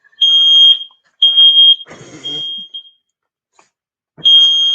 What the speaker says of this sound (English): that's a new fire alarm